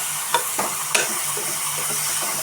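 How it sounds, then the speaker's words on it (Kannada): Tomato bath mixture fries in a pan with a steady, even sizzle, broken by a few soft stirring knocks early on. "ಫ್ರೈ ಆಗಲಿ, ಚೆನ್ನಾಗಿ ಫ್ರೈ ಆಗಲಿ"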